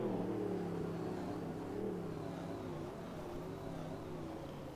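The Executioner monster truck's engine drones and revs loud and close at a Monster Jam freestyle in Minneapolis, a continuous low roar that swells and eases slightly.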